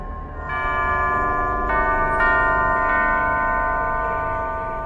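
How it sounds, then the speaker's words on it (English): A sequence of bells rings to unseal a door in the video game Alice Madness Returns, with sustained metallic chimes entering one after another and building into a layered, ringing tone that slowly fades. "Only by playing the correct sequence of bells can it be opened."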